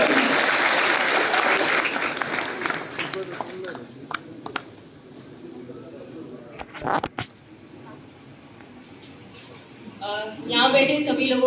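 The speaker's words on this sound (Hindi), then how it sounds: "जोरदार तालियां।" At a public ceremony in a Yadav community hall in Mahendergarh, a hall full of people applauds loudly, then the clapping thins to scattered claps and fades, with a voice starting to speak near the end.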